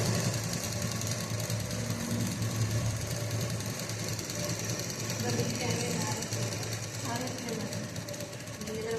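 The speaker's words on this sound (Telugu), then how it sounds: "చూడండి, ఫస్ట్ చివరిని మర్చి కుట్టుకున్నాను" A sewing machine stitches a folded fabric edge with a steady, fast mechanical whir and hum, continuous and close, while someone talks over it.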